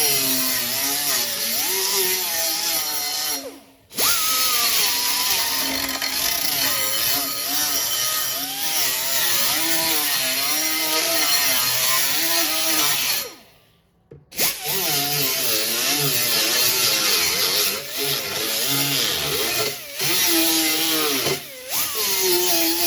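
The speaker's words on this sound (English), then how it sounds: "Let me grab my grinder again. Okay, I'm just gonna grind this down real quick." A handheld grinder bites into a metal lip on an arcade build, making a loud, sustained, wavering whine that runs almost the whole time and breaks off only in two brief pauses.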